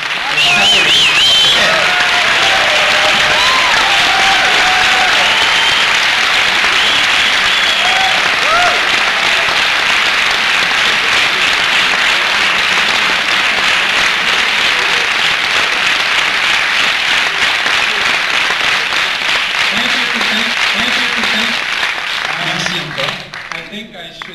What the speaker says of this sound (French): Je peux l'applaudir très fort